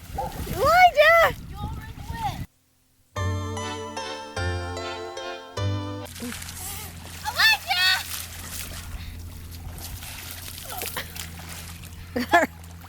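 Kids shout and chatter while splashing in puddles, water sloshing around them, with a brief pause and some tinkling tones partway through.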